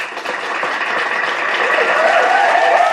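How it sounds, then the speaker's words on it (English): A studio audience applauding and cheering in a steady, dense wash of clapping and crowd noise that holds at full loudness throughout, close and continuous. "I cut the audience off in the mic because I don't want to listen to that cheering anymore"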